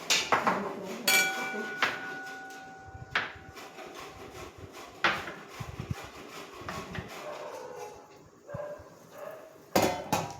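Onion halves rubbed against a hand grater for a traditional homemade masala make rough, scraping strokes in an uneven rhythm, with clatter and knocks of the grater mixed in, close and moderately quiet.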